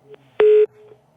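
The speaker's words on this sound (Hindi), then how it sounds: "कॉल ड्रॉप हो गई" A telephone tone cuts in during a live caller segment on a phone-in show: a brief beep, then a steady, loud electronic tone lasting about a quarter second, followed by fainter echoes of the same pitch.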